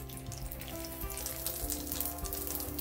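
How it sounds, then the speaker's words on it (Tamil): Payattam paniyaram batter fries in hot oil with a steady, soft sizzle and faint crackle throughout, close but quiet, with no voices. "இதில் இருக்கிற மிச்ச மாவுகளை அப்படியே தட்டி எடுத்துட்டு தான் எண்ணெயில் போடணும்"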